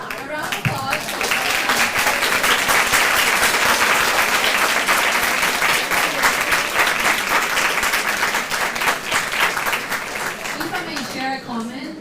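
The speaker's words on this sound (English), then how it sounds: "A round of applause." Loud, sustained audience applause at a debate on animal testing, dense clapping from a room full of people holding steady for several seconds before tapering off at the end.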